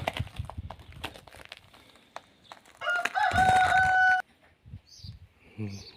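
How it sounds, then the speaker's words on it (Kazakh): Burama breed chickens outdoors, with a rooster giving one loud, drawn-out crow in the middle, surrounded by scattered clucks and rustling, and a voice speaking briefly. "Бұрама тұқымды тауықтар."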